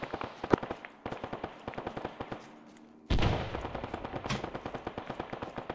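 Rapid automatic gunfire in a video game firefight, loud and near, rattling in dense bursts with a brief lull before another heavy volley breaks out.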